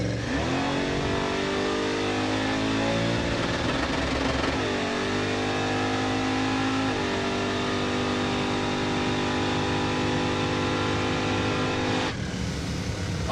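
Crusher Impala drag car launching from the line, its engine roaring loud and continuous as revs climb through several gear-like pitch steps before cutting off near the end.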